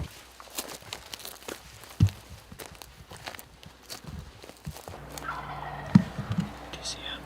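A wild turkey gobbles during a spring hunt in the woods, with sharp rattling calls breaking out a few times amid rustling footsteps in leaves and a quiet background of birds.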